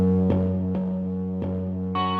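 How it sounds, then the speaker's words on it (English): Distorted 808 bass in FL Studio for a rock beat, sustained with a gritty rumble under sharp percussive hits that land at irregular intervals, with no voices. "we're gonna throw some distortion to give it some rumble"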